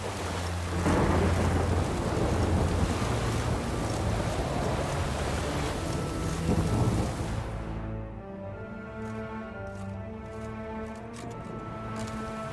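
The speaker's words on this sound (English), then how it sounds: "The storm, damn it." A thunderstorm in the video game Witcher 3 rolls with heavy rumbling thunder over dense rain for most of the stretch, then the storm sound cuts away to calm, droning game music with soft tonal layers.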